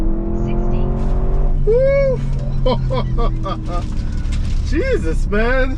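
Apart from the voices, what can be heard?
2021 Audi SQ7 accelerating hard, 0-60 test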